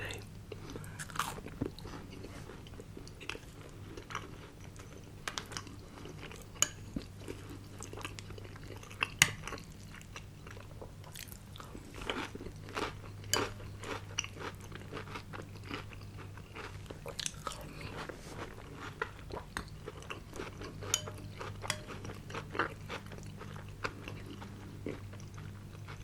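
Someone chews Cap'n Crunch cereal with blueberries up close, giving a steady stream of crisp crunches and bites over a low, constant background hum, with no talking.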